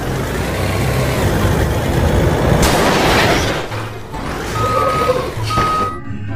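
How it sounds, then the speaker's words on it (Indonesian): Heavy diesel engine rumble from a cement mixer truck, loud and close and running steadily throughout, with brief high beeps toward the end. "Truk molen."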